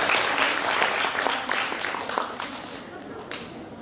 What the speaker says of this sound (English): Give the applause for Dr.